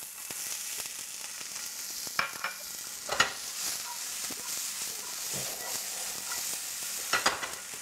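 Diced onion fries in a pot with a soft, continuous sizzle, broken by a few sharp stirring clacks and scrapes spaced through the stretch.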